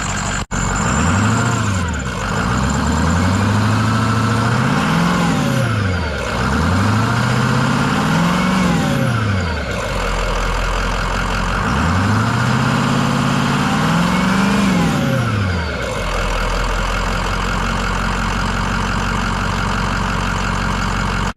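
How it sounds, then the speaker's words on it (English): A Ford 6.0 Powerstroke diesel truck with stock air intake and stock exhaust revs repeatedly, its engine note rising and falling in several loud, close pulls over a steady idle, with no voices. "We'll give it a couple revs up front here too, with the stock air intake and the exhaust for that matter."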